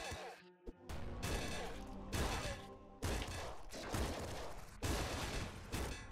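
Nuclear Throne (Ultra Mod) gameplay plays rapid bursts of gunfire and thudding impacts as a melee weapon blocks incoming shots. The bursts come in dense, repeated waves at low overall volume.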